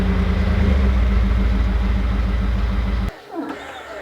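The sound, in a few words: truck engine running while positioning an RV trailer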